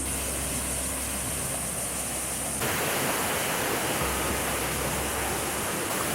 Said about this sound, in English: I'm so close to the waterfall